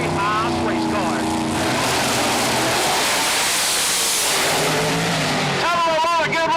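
A 1963 Corvette and a late-model Mustang, nitrous outlaw pro modified drag cars built by Jerry Haas Race Cars, roar down the strip at Farmington Dragway in a loud, continuous engine blast with shifting pitch, while an announcer talks over the run.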